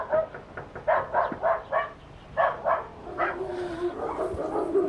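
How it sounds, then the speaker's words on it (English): Several dogs inside a house bark in a rapid, repeated burst of yaps and woofs, muffled by walls, followed by a rising whine-like howl. "Several dogs."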